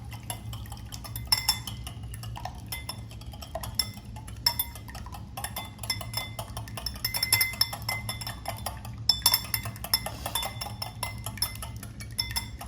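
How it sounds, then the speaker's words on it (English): Eggs beaten with a whisk in a bowl, a rapid, continuous clinking and tapping of metal wires against the dish, close and steady, over a low background hum without talking. "with a whisker, I'm gonna beat the egg. So just whisk it up."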